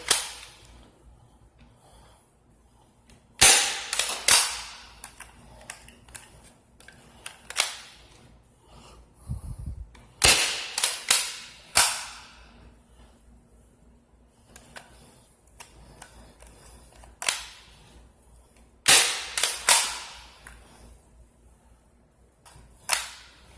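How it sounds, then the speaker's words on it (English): A Nerf Rival Knockout XX-100 blaster being loaded and fired gives close, sharp plastic clacks and snaps in several quick clusters, with quiet pauses between them. "So you take your first shot, you kind of push that forward a little bit."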